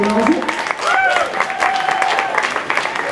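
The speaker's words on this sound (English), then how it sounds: "So if you want to give Rob a big round of applause and everybody else that's helped organise it." Convention audience applauding at a fan event in Stoke-on-Trent, a dense, steady wash of clapping filling the whole stretch, with a few whoops and voices mixed through it.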